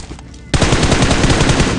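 Automatic gunfire in a military-base shooter video game erupts after half a second of quiet and keeps going as a loud, rapid string of shots to the end.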